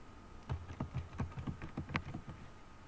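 Keystrokes on a computer keyboard while entering text in MS Word, a quick run of about a dozen light clicks with uneven rhythm, close and clear, with no talk over them.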